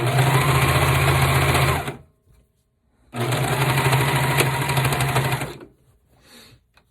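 A sewing machine runs in two long steady bursts, whirring loud and close as it stitches the side seam of a sweater from thin into thick fabric, with short quiet pauses between the runs.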